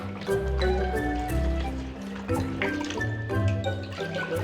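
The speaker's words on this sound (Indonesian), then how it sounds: "Setelah jamu tercampur rata, jamu dimasukkan ke dalam botol plastik" Herbal Madurese jamu made with spices and a pinch of salt is poured into plastic bottles, a steady liquid gurgle and fill sound with small splashes, close and continuous.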